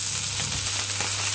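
Leek fries in an AMC wok with a loud, continuous hissing sizzle that stays steady and dense throughout, with no voices.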